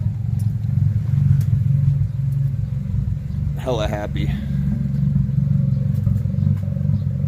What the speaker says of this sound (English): Still idling a tad rough, but I think she has a little bit of a misfire.